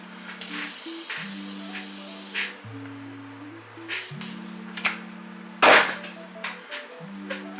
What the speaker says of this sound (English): I go in with my Morphe setting spray.